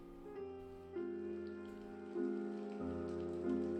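Steady rain falling outdoors in a video game set on a winter's night, an even wash of patter with soft tonal layers of game music or ambience swelling in steps beneath it.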